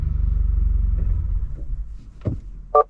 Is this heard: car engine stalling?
yes